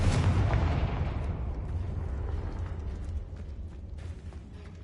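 A Confringo fire spell blasts in the Hogwarts Legacy video game, giving a loud booming impact up front that rumbles and fades over several seconds with faint crackles, no speech.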